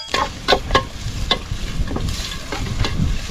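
Onions fry and are stirred in a pan over an outdoor fire in the forest, a rough crackling sizzle broken by several sharp spoon scrapes and clatters, close and fairly loud.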